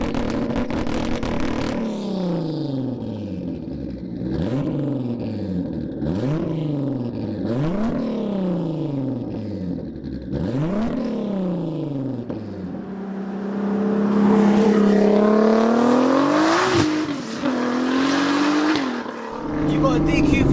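A tuned 900bhp Audi A3 with a 3.2-litre turbo engine and RS3 DQ500 gearbox accelerates hard on a drive, loud and close, rising through several rapid gear shifts before a long high-revving pull, with people talking over it.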